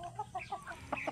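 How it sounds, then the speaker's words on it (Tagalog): Backyard chickens cluck in a short run of soft, close calls, several quick notes spaced through about a second with no talking. "binigyan po tayo ng extrang rooster"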